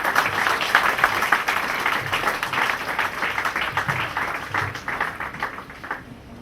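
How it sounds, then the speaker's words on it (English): A round of applause from an audience at an Ambedkar Jayanti function at VNIT Nagpur as a bouquet is offered to the chief guest. Individual claps are audible in a brisk patter that gradually thins and fades toward the end. "Let us have a round of applause."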